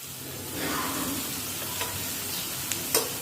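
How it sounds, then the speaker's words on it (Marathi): Coriander powder is stirred into sizzling oil for a sprouted moth bean usal, giving a steady close frying hiss with light scraping stirs and a couple of small clicks near the end. "धनेपूर घालून परत एकदा परतून घेऊया"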